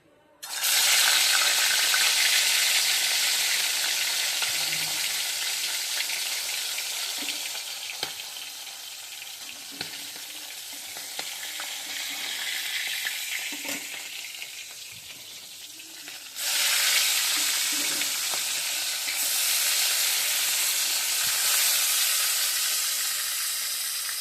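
Snakehead fish fries in hot oil, a loud sizzle erupting as it goes in and hissing steadily, then surging again partway through as the frying continues.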